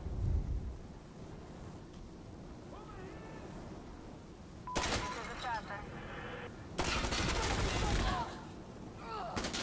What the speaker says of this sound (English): Our artillery to the east.